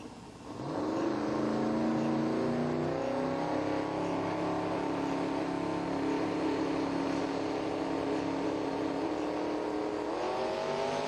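Race cars rolling out at a drag race, a steady loud engine drone that rises and holds with layered tones, with no talk over it.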